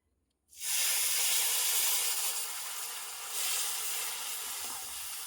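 Milk poured into a hot pan of frying semolina and nuts sets off a sudden loud hiss after a brief silence, then a steady sizzling steam that swells once more and carries on alone.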